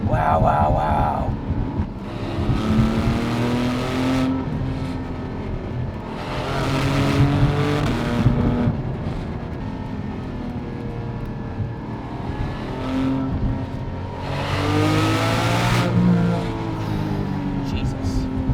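Porsche 718 GT4 with PDK gearbox accelerating hard on a road, engine notes rising and falling through gear changes, heard from inside the cabin while the driver talks over it.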